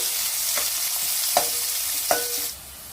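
Onions and green chillies for a village-style brinjal and pea curry fry in hot oil until golden, a continuous close sizzle punctuated by a few sharp ladle scrapes against the pan, with no voices.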